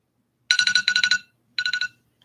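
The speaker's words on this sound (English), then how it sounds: "that's my alarm for prayer" A phone alarm ringtone set for prayer time, ringing in two quick bursts of rapid, bright trilling pulses with a short pause between, close and clear with nothing else around.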